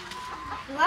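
A hen clucks a few times close by, ending in a louder squawk, with faint voices and outdoor noise underneath.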